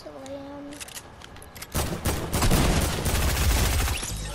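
Gunfire in the video game Fortnite, a dense burst of rapid shots rising after a quiet start and continuing loudly to the end, with a faint voice early on.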